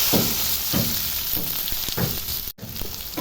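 Chopped onions sizzling in hot oil seasoned with white cumin and garam masala whole spices for North Indian rajma, a steady crackling fry with periodic stirring scrapes and a brief dropout near the end.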